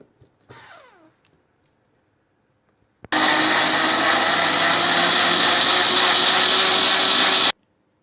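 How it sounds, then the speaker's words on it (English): After a brief clink, a blender kicks on abruptly and roars at a loud, steady whir for about four seconds blending a watermelon sorbet mixture before cutting off. "And add the mixture to the blender."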